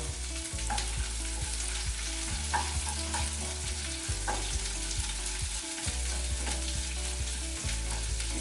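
Onions and cinnamon fry loudly in a pan, a constant crackling sizzle with occasional stirring scrapes and knocks.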